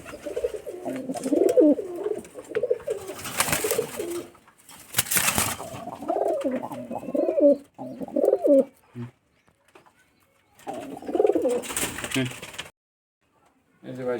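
Rajshahi Giribaz pigeons with large feathered feet coo in repeated low, rolling phrases, close and fairly loud, broken by a few bursts of rustling or wing flapping and short quiet gaps.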